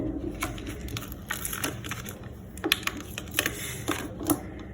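Crinkly packaging and plastic rustle as a Derwent precision mechanical pencil is unboxed, with sharp snaps and tearing clicks breaking through a steady, close background of handling noise.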